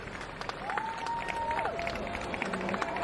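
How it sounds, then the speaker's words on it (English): Crowd noise and scattered clapping at a para-cycling road time trial in Dumfries: a faint, distant wash of cheering with a brief whistle-like tone. "Good noise from the crowd in Dumfries."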